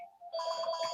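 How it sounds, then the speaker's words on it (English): A mobile phone ringtone goes off, a steady electronic ring with sustained tones that starts faintly and swells, heard alone without talk. "sorry about my phone going off"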